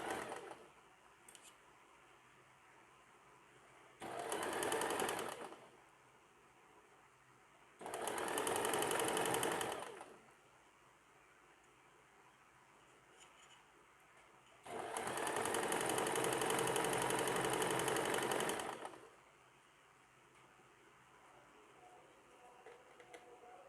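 A sewing machine stitches pajama fabric in three bursts of fast, even motor whirring, the last one longest, separated by quiet pauses with faint handling sounds.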